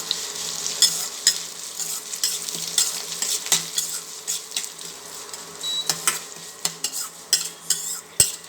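Onions sautéing in oil with curry leaves for a Tamil sundakkai vathal kuzhambu, with a steady close sizzle broken by repeated scraping stirs and spatula knocks against the pan, no talk.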